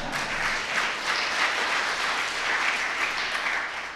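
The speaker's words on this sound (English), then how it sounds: "You can keep clapping." An audience applauds continuously during a mayor's housing announcement, a steady, even patter of many hands at moderate level with no speech over it.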